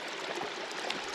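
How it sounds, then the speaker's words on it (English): Water in a stream flowing beneath snow in Seward, Alaska, a steady rushing and burbling wash that stays close and constant with no voices. "walking over snow, where you could see a stream of water"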